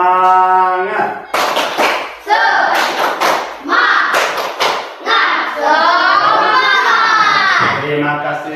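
Schoolchildren in an elementary math class clap together in rhythmic bursts during a group clapping chant, loud and close, with a voice and children's voices chanting over the claps.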